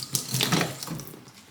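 Water runs from a kitchen tap onto a paper towel, a brief splashing gush that starts loud and close and then tapers off, with no speech.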